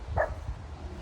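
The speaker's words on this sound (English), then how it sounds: "Shut up, dog." A dog gives a single short bark, fairly close, over a low background rumble.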